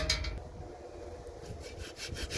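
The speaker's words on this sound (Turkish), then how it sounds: "el testeresi yardımıyla yeniden taşımızı kesiyoruz" Hand saw cutting through stone while building a Maltese-style stove, with a quiet, close rasping rub in short uneven strokes and no talk.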